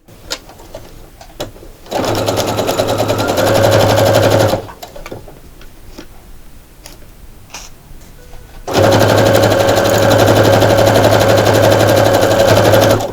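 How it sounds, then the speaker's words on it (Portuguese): A sewing machine runs in two loud, steady stretches, stitching strips of fabric for a dish towel border, with a backstitch at the start and end of each seam and quiet pauses between the runs. "agora eu vou voltar à máquina, vou passar uma costura com a medida de pé de máquina e retrocesso no começo e no final"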